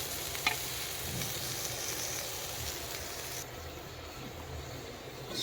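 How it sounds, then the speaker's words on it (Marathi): Bitter gourd fries in oil on a wood-fired clay stove at night, giving a continuous soft, close sizzle with a faint crackle near the start. "तर हे अशा पद्धतीनं आपण कारले छान भाजून घेऊ."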